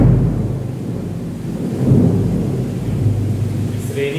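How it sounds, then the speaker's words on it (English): A thunderstorm outside, with rain and a deep rolling rumble of thunder, forms a continuous low roar that swells slightly midway through the few seconds. "it's raining outside and there is thunders and lights"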